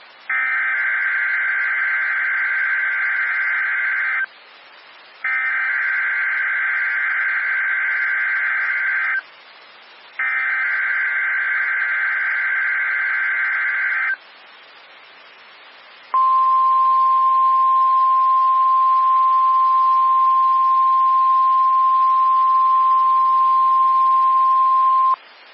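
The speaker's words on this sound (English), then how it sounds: "This has been a test of the NOAA All Hazards Weather Radio Alarm System" A NOAA weather radio alarm test plays three long, loud dual-pitched electronic data bursts separated by short gaps, then a single steady piercing alert tone holds for about nine seconds.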